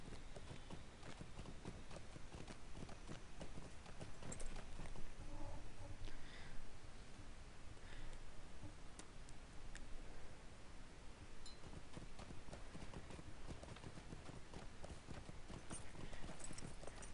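Steady clip-clop of a horse's hooves as a mount is ridden in The Stones of Wildermore game, a continuous rhythmic trot heard close and alone, with no talking, for the whole stretch.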